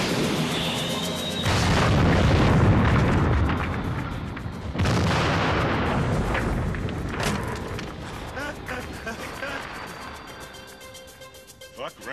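A bazooka fires and a huge explosion follows in a 1987 Beverly Hills Cop II action scene, two loud booming blasts roughly three seconds apart, each rolling into a long crackling, debris-strewn tail that fades away.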